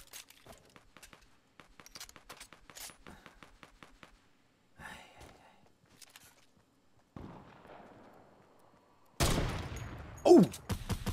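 Video game gunfire crackles in quick clustered bursts of sharp shots, pauses briefly, then returns with a louder, denser volley and a heavy blast near the end.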